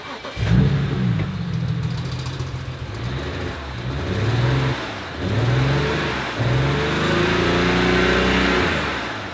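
A used car engine cranks and catches, then revs repeatedly in rising and falling swells over a rough idle, close and loud with nobody speaking.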